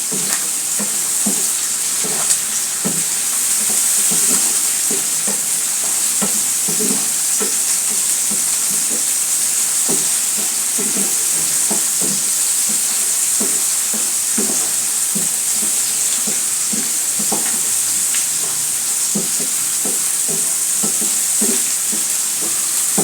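Chopped onion frying in a pan with a steady bright sizzle that lasts throughout, broken by regular scraping and stirring taps, close up with no talking.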